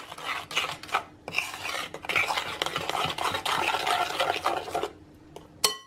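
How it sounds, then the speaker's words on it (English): Coconut flour being mixed into cookie dough in a bowl, with continuous close scraping and rubbing of a utensil against the bowl, broken by brief pauses and a final knock. "And then mix in the coconut flour."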